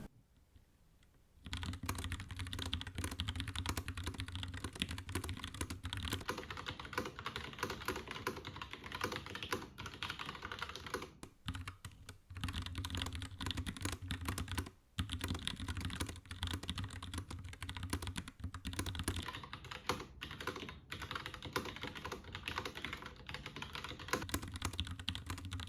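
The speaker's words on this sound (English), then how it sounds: "let's see some typing tests, and again, this is the brown switches" Fingers type quickly on a Logitech Pop Keys keyboard fitted with brown switches, producing a dense, even run of close, soft clacks that pauses briefly twice during a long stretch of steady typing.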